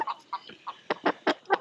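Chickens in the dark give a run of short, soft clucks, about eight quick calls in a second and a half, close by and fairly quiet.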